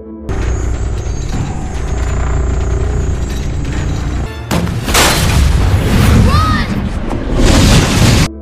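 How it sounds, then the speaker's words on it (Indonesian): Spaceship cannon fire in a film: after a sustained mechanical drone, loud booming blasts and bursts follow with sweeping, whistling tones, several shots in quick succession filling the second half. "Sebuah pesawat antariksa mendekati rumah mereka lalu mengeluarkan meriamnya. Beberapa tembakan pun dilepaskan"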